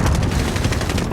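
Rapid automatic gunfire in the Call of Duty Warzone Cold War shooter, from an AK74u rifle, a loud, dense string of shots that runs through the whole moment without pause.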